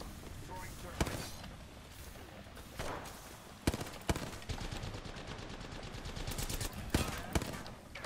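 Gunfire in the battle royale video game Apex Legends: repeated sharp shots and automatic bursts, some near and loud, others further off, scattered across a busy fight with faint footsteps and thuds between them.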